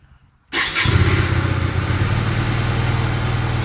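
A 2012 Hyosung GV250 motorcycle fires up at the first attempt after a short silence, then settles into a loud, steady, close-up idle.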